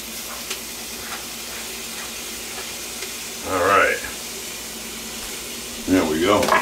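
Short bursts of sizzling as tomatoes hit a hot pan of mussels, two distinct rushes of frying over a quiet kitchen background with a person talking nearby.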